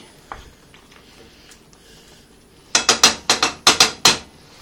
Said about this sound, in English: So just going to stir it a bit.